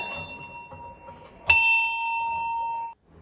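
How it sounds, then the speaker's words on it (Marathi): A single bell strikes sharply, its bright metallic tone ringing out and sustaining for over a second before cutting off, with faint background noise before it. "त्याने घंटा शोधून मागवल्या होत्या ती घंटा या वाजतात"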